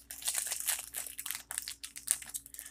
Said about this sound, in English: there's going to be more crinkling